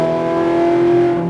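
A Ferrari F430 accelerates uphill at Speed Vegas, its engine note a loud, steady, close-up roar that climbs slightly through a brief burst, with no talk.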